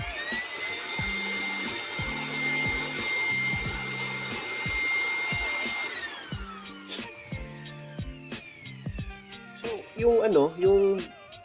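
An INGCO AB8008 800W 2-in-1 vacuum blower drones loudly with a steady whirring motor for several seconds, then cuts off, leaving scattered clicks and handling noises while a person talks underneath.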